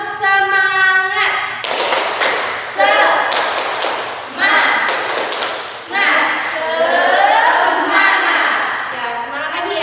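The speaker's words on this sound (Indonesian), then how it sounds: "Kita sekarang tepuk semangat dulu biar semangat semuanya. Tepuk semangat." A classroom group claps a rhythmic spirit cheer in several loud bursts, with voices chanting along between the rounds of hand claps.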